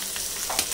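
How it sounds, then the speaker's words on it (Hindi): Food frying in desi ghee with cumin gives a steady, close hiss of sizzling for under a second, with faint stirring accents and no voices. "देसी घी में बन रहा है।"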